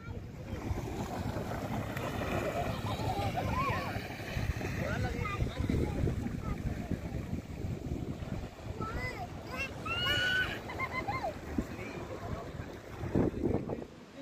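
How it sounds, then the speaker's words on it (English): Cold, breezy wind buffets the microphone on a morning beach near Revdanda Fort in Alibaug, a steady close rumble with surf in the background and occasional voices. "Very breezy and very cold."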